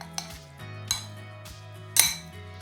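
A spoon stirs fruit in a bowl for an Instant Pot fruit crisp, making three bright clinks against the bowl over a low, steady hum, with no talking.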